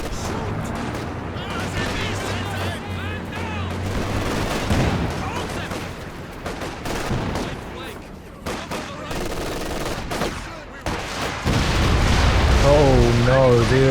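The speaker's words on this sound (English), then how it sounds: "There's rockets connecting on the trees, but it's still got an okay hit." A rocket artillery barrage slams into woodland in Company of Heroes 2, with rapid overlapping booms and crackling blasts in a dense, sustained roar; someone talks over the barrage.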